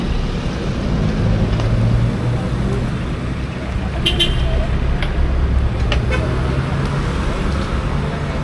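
Street traffic in Medan streams past close by, a loud continuous roar of car and bus engines with a few short horn toots scattered through it and voices underneath.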